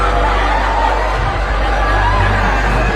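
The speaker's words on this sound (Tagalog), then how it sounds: "Talagang tumitili ang mga tao." A dense crowd at a welcome for Vice President Sara Duterte shrieks and cheers, a loud continuous roar of mixed voices and chatter from close by.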